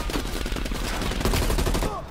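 Rapid bursts of gunfire in the video game Call of Duty: Cold War, aimed at a vehicle's tire, rattling loudly and continuously for a couple of seconds with dense overlapping shots.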